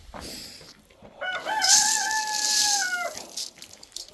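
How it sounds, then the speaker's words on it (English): A rooster crows once nearby, a long strained cock-a-doodle-doo rising and holding, with faint rustling before and after. "Did the rooster get by me?"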